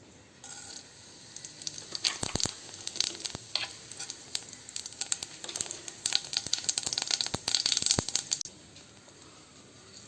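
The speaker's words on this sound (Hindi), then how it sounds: "तेल गरम होते ही इसमें हम डालेंगे ज़ीरा" Cumin seeds crackling in hot oil for an Odisha-style aloo dum, a dense close sizzle with rapid sharp pops and spits that fades out near the end.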